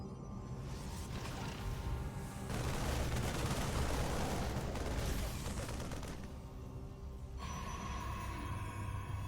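StarCraft 2 Terran and Protoss units trade fire in a real-time strategy battle, a dense, continuous wash of rapid shots and blasts with swelling and fading intensity and no gaps.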